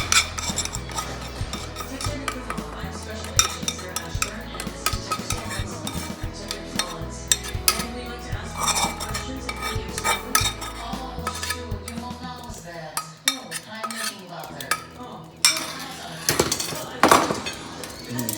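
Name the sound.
mixing air-fried Asian wings with thickened sauce in a bowl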